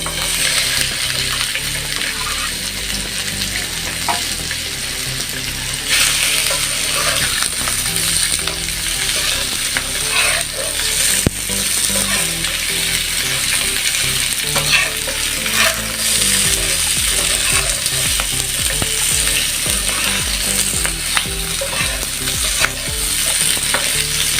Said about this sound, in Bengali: এখন আমরা তলোয়ার সিম ভাজা নিতে আসি তেলের ভিতরে, হালকা তেলের ভিতরে ভাজা নেব।